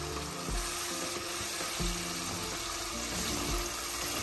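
Pilchard fish curry made with tinned Glenryck pilchards frying in a pan over low heat, giving a steady, dense sizzle with occasional soft clinks, and no talk.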